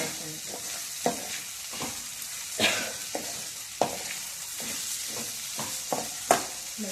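Sliced cucumber sautés in a hot pan for a buttermilk curry, a steady sizzle broken by repeated scraping strokes of a spoon stirring the pieces, close and fairly quiet with no talking.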